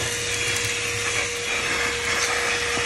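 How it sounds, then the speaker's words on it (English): A cheap handheld car vacuum runs continuously inside a Subaru Crosstrek, sucking crumbs off a seat with a steady high-pitched motor whine and airy hiss, close and unbroken, with no talking. "And it vacuums it right up."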